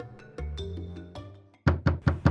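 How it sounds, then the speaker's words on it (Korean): Four sharp, resonant knocks strike a wooden door in quick succession, following a soft musical passage, loud and close with nothing else over them. "갑자기 누군가가 문을 두드렸고"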